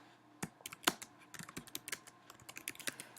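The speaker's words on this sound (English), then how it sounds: "you just hit enter here and type your notes" Typing on a computer keyboard, a quick irregular run of clicky keystrokes with a few louder key taps, close and clear with no talk.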